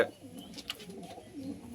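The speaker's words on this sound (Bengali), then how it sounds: "বৃহৎ হলুদ চোখের পায়রা দেখতে পাচ্ছেন, আন্ধ্রা ম্যাট্রাজ।" Andhra (Madrasi) pigeons with large yellow eyes coo softly, a faint, low, brief murmur at close range with no talking.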